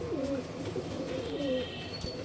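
High flyer pigeons in an indoor breeding room give soft, low cooing calls, close and fairly quiet over a faint background hum.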